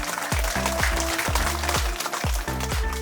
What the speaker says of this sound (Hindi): बाल संघ और क्रूसवीर के सभी बच्चों के लिए जोरदार तालियों द्वारा धन्यवाद देते हैं।